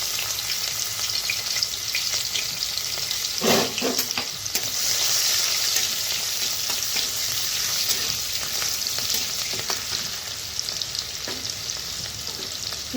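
Crushed garlic sizzles loudly in a little hot oil, a steady crackling fry with a few stirring scrapes near the start and no voices.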